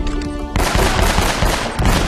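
A grenade blast in Uncharted, a sudden loud broadband burst that hits about half a second in and rumbles on with crackling debris and gunfire-like clatter, with no talking.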